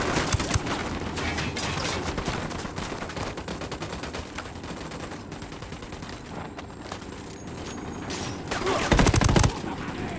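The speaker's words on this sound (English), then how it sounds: "Boy, my guy's taking a lot of fire." Heavy gunfire from Ghost Recon Wildlands, a steady barrage of overlapping shots and bursts through the whole span, with a louder close cluster of blasts near the end.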